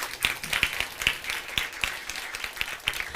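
Conference audience at a women in cybersecurity event applauding online participants, a moderate room of clapping with distinct sharp individual claps standing out in an uneven rhythm, fairly quiet overall.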